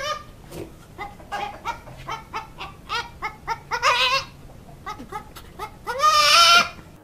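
A goat bleats and screams loudly in a rapid series of harsh, repeated cries, building to a long shrill yell near the end, close by.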